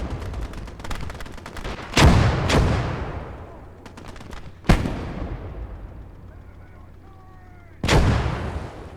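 Booming mortar and tank cannon blasts from the World War II game Call to Arms Gate of Hell, several heavy explosions spaced seconds apart with crackling distant gunfire and rumbling tails between them.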